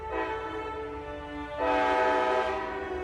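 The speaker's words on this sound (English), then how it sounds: "A train whistle blares from the depot on Portland Street, announcing the approach of a train." Train whistle blaring from a railway depot, a loud sustained harmonic blast that drops briefly then returns stronger and fuller for a second long note.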